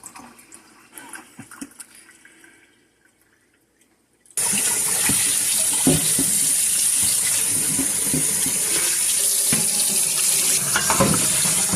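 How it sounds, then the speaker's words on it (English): Tap water runs hard into a sink to rinse buttermilk from freshly made homemade butter, a loud steady gush that starts abruptly after some quieter handling noises. "Rinses out the rest of the buttermilk from the finished product."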